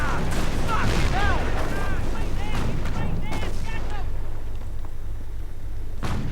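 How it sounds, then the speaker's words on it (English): Gunfire and explosions from a real-time strategy battle as a Kangaroo armored carrier is blown apart, bursts of shots and booming blasts with whistling shells overhead, loud and dense, fading slightly near the end. "this kangaroo getting blown to bits, main gun destroyed, and the kangaroo itself destroyed"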